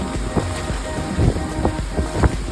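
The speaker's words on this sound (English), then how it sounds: "Windy and heavy seas." Wind gusting around a boat at anchor in heavy seas, with uneven rushing swells and thumping low surges of water and hull noise, fairly close and steady, no voices.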